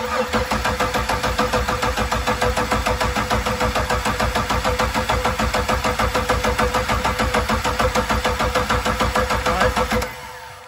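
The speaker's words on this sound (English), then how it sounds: "I'm gonna go ahead and uh, crank this engine over" A boat engine cranks over steadily with a rapid, rhythmic chugging for about ten seconds, loud and close, then stops abruptly.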